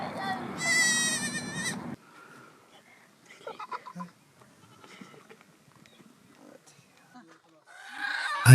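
At a Bedouin nomad camp, a goat gives one loud, wavering bleat up close, followed by quieter scattered animal and camp noises.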